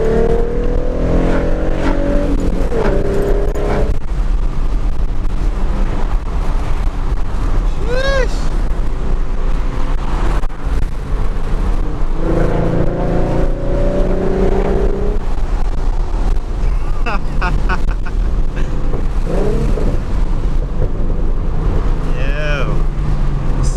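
V6 Mustang downshifting from fourth to second and accelerating, heard as a constant loud road and engine roar from inside the car, with someone talking throughout.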